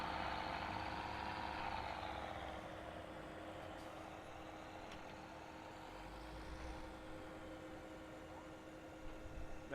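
Tractor engine in Farm Simulator 17 running steadily at a low, even drone, pitch rising slightly then settling, faint and continuous with no talk.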